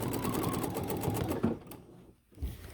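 A Bernina sewing machine runs steadily while stippling a quilt, a fast continuous stitching whir for about a second and a half before it stops, leaving quiet room sound and a soft bump.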